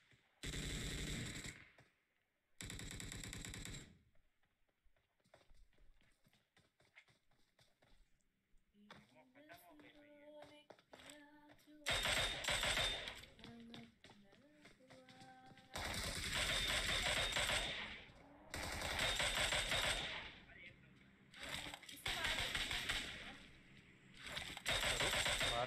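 Enemy automatic gunfire in the PUBG Mobile video game comes in several loud bursts separated by quieter gaps with mechanical game sounds, and people talk through parts of it.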